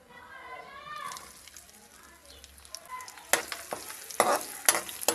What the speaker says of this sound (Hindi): प्याज को हल्का ब्राउन होने तक फ्राई करेंगे।